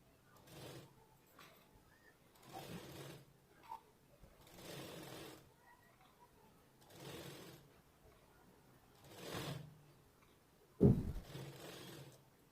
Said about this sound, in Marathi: त्या खाचेमध्ये एकदम बरोबर आपण शिलाई मारतोय